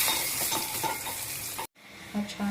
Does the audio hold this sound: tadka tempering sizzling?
yes